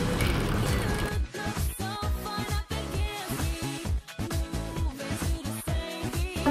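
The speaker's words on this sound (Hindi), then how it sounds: "अब हम यहाँ सिलाई को डबल करेंगे।" A sewing machine double-stitches the bottom hem of a trouser, clattering loudly and up close with rapid ratcheting, gear-like pulses that surge and briefly slow as the fabric is guided.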